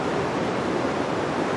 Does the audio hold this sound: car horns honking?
no